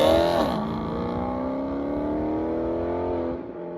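A Maserati/Ferrari-derived 4.7-liter V8 in a sports car revs up loudly and close, a rising, harmonically rich engine note that holds steady for a few seconds before dropping away abruptly.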